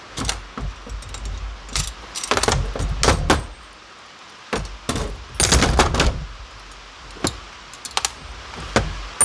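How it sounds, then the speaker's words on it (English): Bolt cutters work on a steel chain and J hook from a coyote trap, with several sharp metallic clacks and rattles in uneven bursts separated by quiet pauses, close to the listener. "So just take bolt cutters and lop it off real quick."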